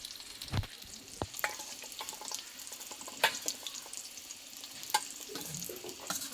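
Potatoes fry quietly in a pan, a low sizzle with occasional clicks and scrapes of stirring and brief watery splutters.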